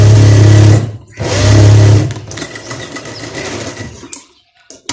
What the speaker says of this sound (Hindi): ये दोनों साइडों पे हमने ऐसे सिलाई लगा ली है।